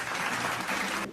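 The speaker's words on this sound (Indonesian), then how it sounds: "Mari kita beri tepuk tangan." A group of students applauds a classmates' team after their presentation in a small-group discussion lesson: a dense, brief burst of clapping from many hands nearby that cuts off abruptly.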